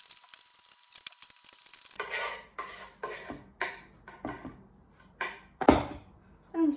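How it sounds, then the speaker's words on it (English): Chopped onions and green chilies being stirred into a spicy salsa in a bowl give a run of soft, regular scraping and clinking strokes of a utensil against the bowl, close and fairly quiet, with no talking. "I'm just going to mix it all together to create a really lovely spicy salsa"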